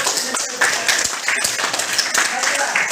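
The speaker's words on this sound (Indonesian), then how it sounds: "Tepuk tangan dulu." An audience claps during a classroom or training session, making a steady, dense spatter of hands that carries on throughout at moderate volume.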